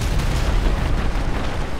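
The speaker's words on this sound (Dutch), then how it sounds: "Zagen jullie dat explosiegeweld van onze clusterbommen?" Cluster bombs dropped from a plane in GTA 5 explode in a dense, continuous barrage of booming blasts and rumbling gunfire-like cracks, loud and close, with no pause.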